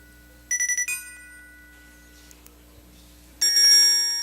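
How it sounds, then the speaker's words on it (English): A traditional ring tone plays on a Nokia phone, a rapid burst of bright electronic bell pulses that decays, then after a quiet pause a second loud burst of trilling rings begins, close and clear. "That's a traditional ring."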